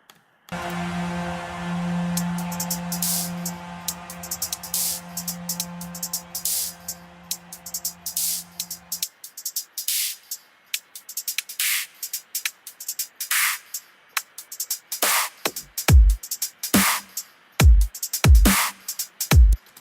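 Dubstep drum loop for a DJ TriCaster session, starting as a dense sustained buzzing hit layer that cuts out midway, then punchy separate drum hits whose low end sweeps downward as the filter closes, loud and alone.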